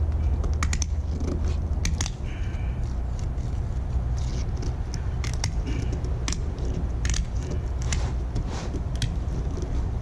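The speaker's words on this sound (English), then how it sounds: "These meat shears do the trick." Meat shears snip and crunch through tough gar fish in a run of sharp, close cuts over a constant low background rumble.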